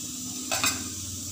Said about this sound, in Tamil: எண்ணெய் ஊற்றிக்கிறேன்